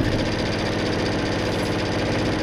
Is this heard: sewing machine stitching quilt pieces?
yes